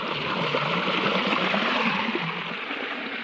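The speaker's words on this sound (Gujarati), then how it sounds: "આવી ગયા અહીં આપણે પાણી બંધ કરવા" Water flows steadily through a farm field channel before being shut off, a close, continuous gurgling rush that eases slightly near the end, with no talking.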